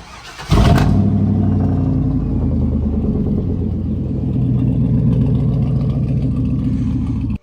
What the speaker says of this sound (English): let's go start this truck up and see if we can fit